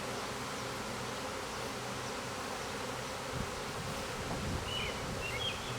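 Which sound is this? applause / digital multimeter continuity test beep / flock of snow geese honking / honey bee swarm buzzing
honey bee swarm buzzing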